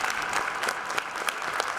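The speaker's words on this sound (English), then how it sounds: "We were going to give Framingham a round of applause." A crowd in a high school gym at a boys basketball game against Framingham applauds steadily, a sustained wash of clapping with a few sharper claps near the front.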